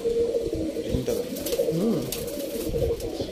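Loft pigeons coo nearby in low throaty rising-and-falling phrases, several birds layered together, while a person talks over them.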